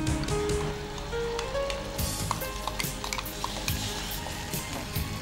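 Ingredients for tomato bath fry in a pan without water, a continuous crackling sizzle broken by frequent metal spatula scrapes and taps as they are stirred close up.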